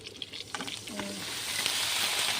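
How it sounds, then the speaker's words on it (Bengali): Taro stolons frying with browned onions in a pan give a soft sizzle that swells into a steady hiss, with a few light stirring scrapes early on; quiet and close. "লেটকিগুলো দিয়ে দিলাম ভালো করে কষিয়ে নেবো"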